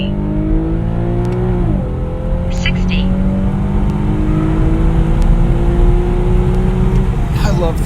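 A car pulls hard on an eighth-mile run on a slightly damp road. The engine climbs in pitch, drops briefly at a gear change, then revs steadily upward again in third gear. It is loud and close throughout.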